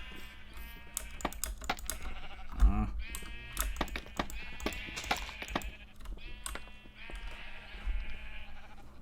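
Sheep in the video game Minecraft bleat in a few short, clear calls over a steady background of rapid keyboard and mouse clicking.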